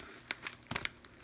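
Scissors snipping through the top of a car air freshener package, a few quiet crinkling cuts spread over a second with no talking.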